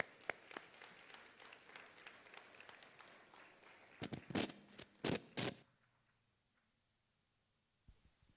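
A church congregation applauds to welcome Pastor Jorge, with dense, fairly faint clapping through the first four seconds. A few louder bursts follow before the sound fades to near silence.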